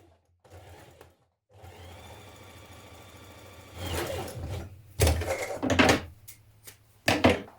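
A sewing machine stitches the notched edge of a teddy bear's folded fabric bow in several short and longer bursts, its motor whirring up and stopping between runs, close and fairly quiet.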